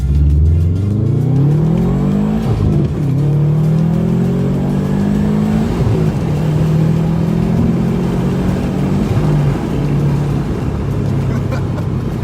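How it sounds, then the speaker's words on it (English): A turbocharged Subaru WRX hatchback engine revs hard and accelerates, loud and sustained, its pitch climbing and dropping through gear changes with no talking. "I really just can't get over the turbo noise this car makes."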